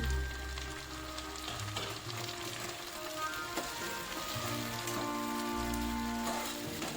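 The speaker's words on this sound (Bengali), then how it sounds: "টমেটোটাকেও পেঁয়াজের সঙ্গে মিশিয়ে ভালো করে ভেজে নেব" Chopped tomato fries with onions in a pan, giving a quiet, even sizzle like light rain, with soft stirring and no talk.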